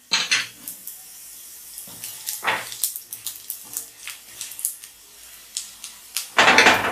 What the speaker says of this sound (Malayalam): നമുക്കിതൊരു പാത്രത്തിലേക്ക് മാറ്റാം.